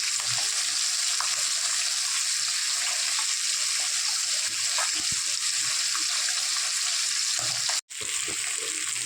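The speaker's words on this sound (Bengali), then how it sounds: "দেখো আলুগুলো ভাজা বসিয়ে দিয়েছি, আলু আর পেঁয়াজ।" Potatoes and onions frying in oil in a home kitchen, a continuous close crackling sizzle with a few clinks, one brief dropout near the end and no speech.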